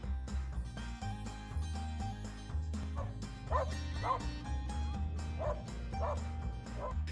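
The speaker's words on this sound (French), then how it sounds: "l'attention de Arwen va repartir sur le cheval et il va avoir des déclenchements" A shepherd dog barks and yips in short repeated bursts while reacting to a nearby horse, the calls coming close and fairly loud over a steady low background hum.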